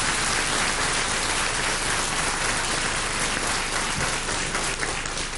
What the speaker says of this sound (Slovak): Solista musí dostať aplauz.